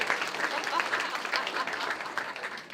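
An audience breaks into a round of applause, steady dense clapping at moderate level throughout, with some voices mixed in.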